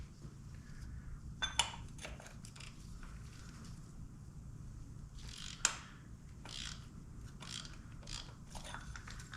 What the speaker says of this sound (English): this one is easy to get to with a cup style oil filter wrench